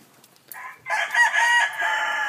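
A Black Jap Asil Peru gamefowl crows once, loud and close, after a brief faint cluck, the drawn-out call holding steady to the end.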